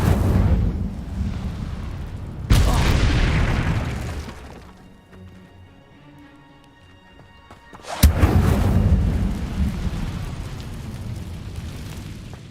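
Incendio fire spell cast in Hogwarts Legacy, a loud whooshing burst of flame that roars twice with a quieter lull between, dense and full-bodied like an explosion.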